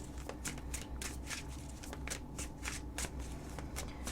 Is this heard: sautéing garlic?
no